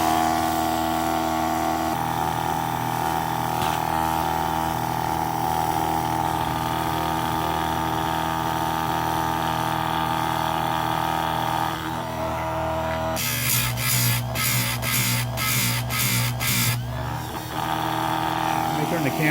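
A Harbor Freight chainsaw chain sharpener runs with a steady motor hum, then from about 13 seconds it grinds against the chain in a series of short, bright, rasping bursts, loud and close.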